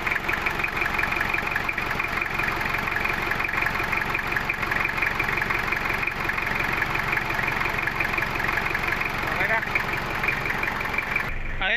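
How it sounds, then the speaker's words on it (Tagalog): An owner-type jeep engine idles steadily and evenly at close range, a continuous low rumble with faint knocking texture, running without change throughout. "Tahimik yung andar, ano?"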